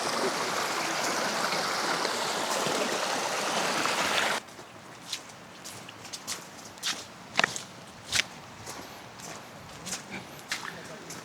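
A flowing mountain stream on a forest hike rushes loudly and steadily for the first few seconds, then cuts to a quieter trail scene with scattered footsteps and light knocks.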